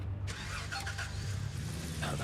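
A truck engine in Gold Mining Simulator cranks and catches, settling into a steady low mechanical idle with a few clunks from the vehicle near the start.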